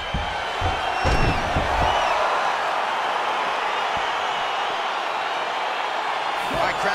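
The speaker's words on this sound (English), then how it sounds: "Crowd getting excited as this fight gets underway" An arena crowd at an MMA fight roars steadily as the bout gets underway, a broad wash of cheering with a few sharp whoops and thuds, and a commentator talks over it.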